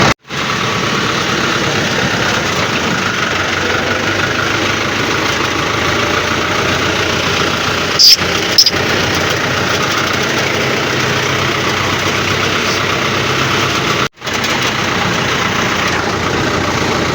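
A tractor engine runs steadily throughout, a continuous idling rumble with a brief cut-out near the end, with no voices.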